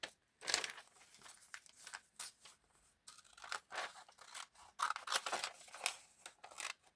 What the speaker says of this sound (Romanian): Apoi o să tai